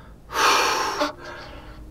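A quick, loud breath drawn in before saxophone playing, heard alone in one strong inhale lasting under a second, followed by quieter breathy air.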